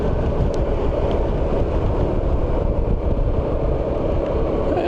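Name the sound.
Yamaha Xmax 300cc scooter riding with wind noise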